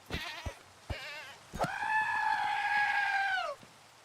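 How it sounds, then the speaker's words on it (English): Goats in the Minecraft video game make two short bleats followed by one long drawn-out wavering cry, loud and close with no talking. "Dude, the goats have been there the whole time, and I'm seeing and hearing them a bunch."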